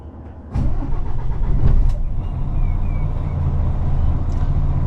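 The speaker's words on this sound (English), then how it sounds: "I've just started her up to build up some air pressure." A heavy goods vehicle's engine starting up to build air pressure: a short starter crank catches into a loud, close diesel rumble that settles into a steady idle.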